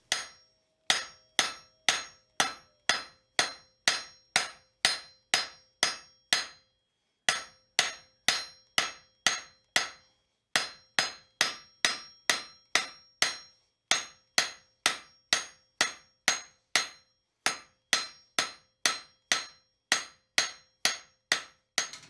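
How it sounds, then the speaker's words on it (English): Hammer blows on steel at an anvil while forging the offset of a fireplace shovel handle made from angle iron: a steady, rapid series of loud, ringing strikes, grouped into runs with brief pauses and no talking. "I'll do that using half-face blows at the near edge of the anvil."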